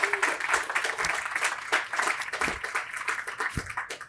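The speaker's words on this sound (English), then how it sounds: "He deserves a huge round of applause." Audience applause at an outdoor playground groundbreaking ceremony, a steady crowd of many hands clapping at moderate loudness for about four seconds with no talk over it.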